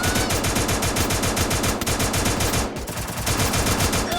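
Rapid automatic gunfire from the Free Fire video game rattles in dense, continuous bursts, loud and sustained throughout with a brief dip midway and no voices.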